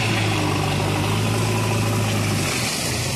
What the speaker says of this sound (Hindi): अब देखिए ट्रैक्टर है यहाँ पे खड़ा है